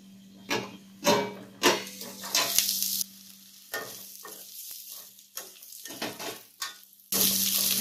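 Bitter gourd masala cooking covered on a low flame, giving a soft sizzle with intermittent louder bursts of frying and a faint steady hum underneath, no talking.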